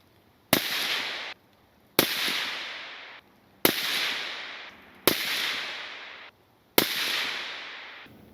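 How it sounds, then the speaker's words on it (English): Five suppressed rifle shots from a SIG SLX 556C, evenly spaced about 1.4 seconds apart, each a sharp loud crack followed by a decaying echo, alone with no talk. "here is a 5-round confirmation group after I've got the gun zeroed"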